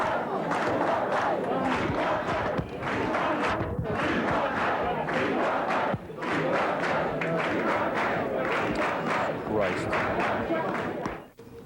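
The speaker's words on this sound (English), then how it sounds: "the crowd there apparently waiting for Governor Michael Dukakis" A crowd of Dukakis supporters gathered at the Lafayette Hotel keeps up loud, continuous cheering, shouting and clapping as they wait for the governor, with voices mixed throughout.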